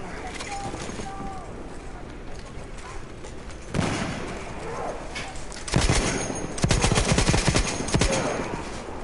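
Bursts of rapid video game gunfire crackle in several volleys, with sharp reports and booming echoes layered over a noisy background.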